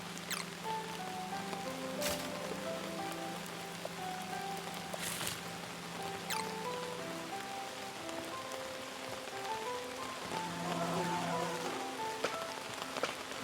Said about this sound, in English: I would kind of like to just stand in the rain right now.